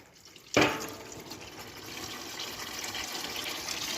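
Water pours during servicing of a Polski Fiat 125p in a home garage. It starts abruptly after a brief quiet moment, then runs as a steady, close, fairly loud rushing stream.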